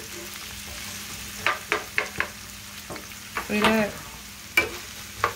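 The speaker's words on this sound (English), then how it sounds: "I got an onion and some celery in here. And I'm just trying to saute it." Onion and celery sauté in a pot, with a soft, steady sizzle broken by scraping stirs and utensil knocks close by, and a brief spoken remark partway through.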